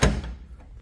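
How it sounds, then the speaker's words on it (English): A shop door opens with a single heavy thunk at the start, followed by a short low rumble as it swings or slides, close and alone. "while you're opening up the door"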